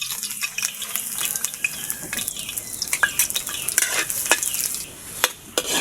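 Garlic sautéing in a hot pan for pancit canton: a steady sizzle with scraping stirs and clinks of a utensil against the pan, close and continuous.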